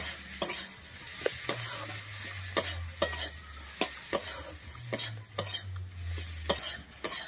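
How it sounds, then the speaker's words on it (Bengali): Chili powder and turmeric spice mix sautéing in a pan, a steady soft sizzle broken by regular sharp clicks of a utensil stirring and scraping, close and clear without speech. "আমি মশলাটাকে এবারে খুব ভালোভাবে একটু কষিয়ে নেব।"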